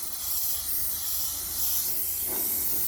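Primer sprayed onto a Tofaş car's front bumper from a spray gun, a steady close hiss holding for the whole stretch with a slight swell near the end.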